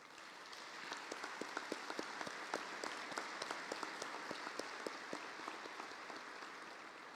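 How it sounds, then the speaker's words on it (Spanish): An audience at a conference on evaluation applauds the INEVAT institute, fairly faint but dense clapping with distinct crisp claps, building in quickly and holding steady throughout. "les pediré un fuerte aplauso para el INEVAT"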